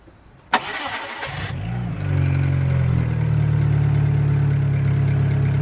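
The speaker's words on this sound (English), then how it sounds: "So we'll go ahead and try and start it up here." A Dodge Neon with a new starter cranks briefly with a whirring starter, then catches and settles into a steady, loud, close idle with a low, rough drone.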